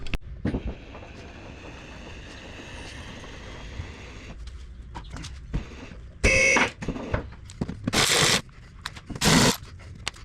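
A car lift lowers a car in a garage during transmission leak repair, a steady mechanical hum followed by three loud, abrupt bursts of hissing release.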